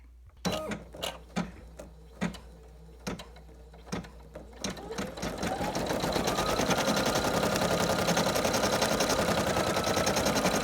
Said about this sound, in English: the next step is the placement stitch for the applique